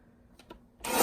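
Cardstock being cut down to size for a card front: two light taps, then a loud, steady rasping slice that continues to the end, close by.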